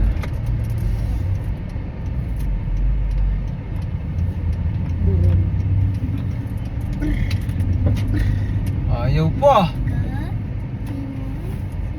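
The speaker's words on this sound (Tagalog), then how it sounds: "Ayaw magbigay ng jeep." A jeepney idles and creeps through congested traffic near a hillside with parked vehicles, its steady engine rumble continuous and close, with a brief horn or squeal near the end and someone speaking over it.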